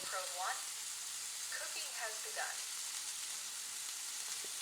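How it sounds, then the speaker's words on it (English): Meat sizzles steadily in a hot pan, a constant bright crackling hiss, with short chirpy squeaks breaking through now and then. "You can hear that sear."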